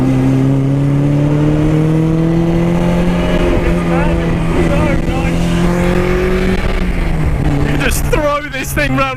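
Honda S2000 Indy RR from 2022 with VTEC, its engine droning hard and steadily climbing in pitch before easing off, sustained and close over road and wind noise.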